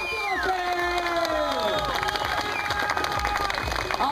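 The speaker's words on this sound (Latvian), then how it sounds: "Aplausi Oskaram Strotam un balvas no Goldsports!" A crowd at a 2012 freestyle competition awards ceremony in Ogre cheers and shouts, with children's high voices and wavering tones over a continuous loud din of claps and noise.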